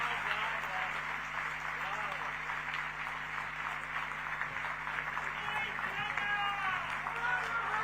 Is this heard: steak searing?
no